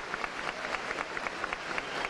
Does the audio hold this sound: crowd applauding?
yes